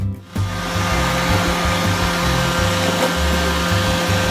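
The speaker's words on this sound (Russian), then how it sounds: "Шумит робот-пылесос не очень сильно, примерно как фен." A Kitfort KT511-1 robot vacuum cleaner running, giving a steady, fairly loud hair-dryer-like whir with a low motor hum and slight fluctuations as it moves.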